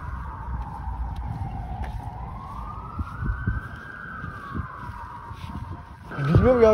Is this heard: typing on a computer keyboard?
no